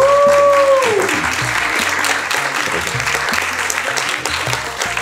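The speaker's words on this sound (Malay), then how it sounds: "Berikan tepukan." An audience at a children's novel book launch at Woodlands Library applauds steadily, a tonal musical cue fading out at the start while the dense clapping carries on over a low backing track.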